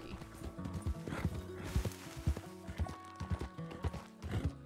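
Donkey hooves clip-clopping in the video game Red Dead Redemption 2, a steady trotting rhythm of hollow hoof strikes, fairly close and clear, with a brief whinny-like tone and no talking.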